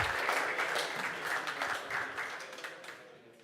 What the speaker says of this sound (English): please give a round of applause to Nicholas